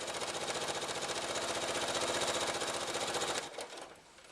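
A sewing machine stitches a quarter-inch seam joining jelly roll quilt strips, running in a rapid, even mechanical chatter for about three seconds and then stopping abruptly, leaving a softer tail of handling noise.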